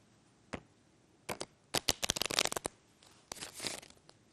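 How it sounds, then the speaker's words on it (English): Short bursts of cards riffling, a few quick flicks followed by a longer fluttering cascade and a final riffle, close up with no voices. "It looks like a regular riffle shuffle."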